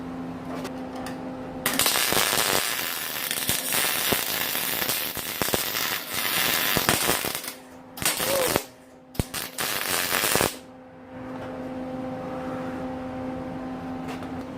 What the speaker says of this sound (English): We're gonna get ready to weld the first one to hold it in place.